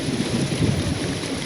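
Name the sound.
rain and thunder during severe storm at Atlanta airport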